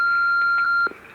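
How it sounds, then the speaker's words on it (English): A single steady electronic beep from an answering machine, sustained for most of a second at moderate level, clean and alone before cutting off. "Leave one after the beep."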